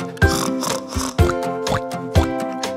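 Short grunting pig oinks land on the beats of a bouncy children's song, blended into the music with steady percussion thumps.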